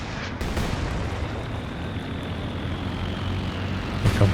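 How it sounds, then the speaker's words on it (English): Reconnaissance plane droning overhead in Company of Heroes 2: a steady propeller engine hum layered with distant battle rumble and thuds, continuous and fairly loud, no speech. "Recon plane up in the air again."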